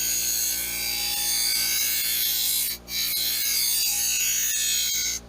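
A serrated knife blade is sharpened on a sharpening rod with steady, continuous rasping scrapes and faint rhythmic ticks, close up over a constant background hum.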